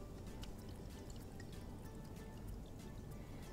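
Water poured from a cup into a salt dough mixture, a faint, steady trickle and splash with small drips throughout, quiet and close with no talking.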